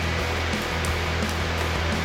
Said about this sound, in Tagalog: At may kalakasan din yung kanyang electric fan.